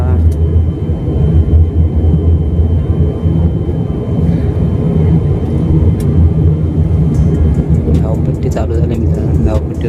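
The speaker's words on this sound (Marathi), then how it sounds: "चालू झालं विमान" A steady, loud low-pitched airplane engine rumble at Navi Mumbai International Airport fills the whole stretch, with faint voices murmuring underneath.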